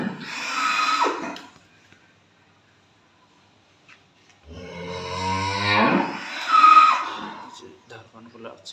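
A large black Friesian dairy cow on a farm lets out a long, loud moo partway through, with someone talking before and around it.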